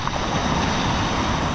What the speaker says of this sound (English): Listen to the sound of the rocks rolling